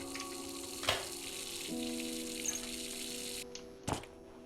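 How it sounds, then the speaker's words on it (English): A steady, faint hiss of running water fills a quiet interior in the horror game Layers of Fear, broken by a few soft clicks and knocks, with no one speaking. "There should not be running water."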